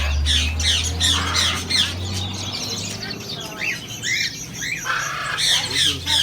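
Many birds squawk and chirp together inside a bird shop, loud and close, with overlapping harsh calls and a constant low hum behind them.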